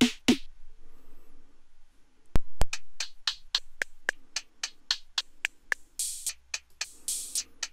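Hi-hat voice from a Prok Eurorack drum module: after a brief quiet gap, a fast rhythmic sequence of crisp, bright ticks, with a few longer open hisses near the end.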